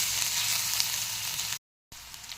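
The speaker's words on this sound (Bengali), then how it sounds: "প্রথমে রসুন কুচি দিয়ে দিলাম," Chopped garlic frying in a pan for a village-style egg curry, a bright steady sizzle heard close up with no voices, broken by a short drop to silence before the sizzling resumes.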